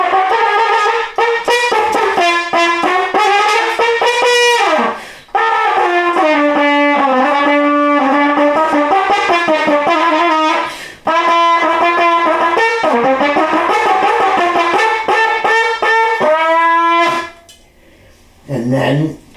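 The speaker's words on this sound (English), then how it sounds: "It's called the trumpet, and it sounds like this." Trumpet played as a big, loud lead brass instrument in a one-man multi-instrumentalist demonstration, heard as bright sustained phrases and runs with short pauses, close and loud throughout.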